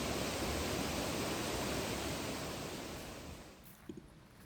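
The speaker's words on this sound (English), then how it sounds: "at the end, at least, I did see a beautiful waterfall." A waterfall on Bear Creek Falls Trail, a dense, steady roaring rush of falling water heard up close that fades slightly toward the end, with a couple of faint knocks near the finish.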